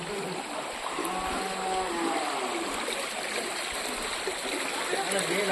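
Floodwater from the Shilabati river pours into Krishnanagar village in Garhbeta, a steady broad rush of flowing water, close and continuous, with faint voices in the background.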